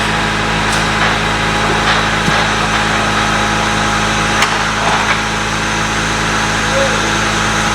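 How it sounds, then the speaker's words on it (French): Vacuum tanker truck engine idling while its pump draws vacuum, a loud steady low rumble with constant drone and occasional small clanks, as someone speaks French over it. "Moi, je suis au ralenti, hein, j'ai pas besoin d'accélérer."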